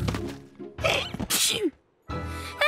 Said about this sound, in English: Why are we all... Achoo! Sneezing.